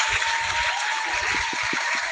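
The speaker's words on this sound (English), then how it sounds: "Round of applause." A small audience on a sneaker talk show gives a round of applause, an even wash of clapping with some low thumps near the end.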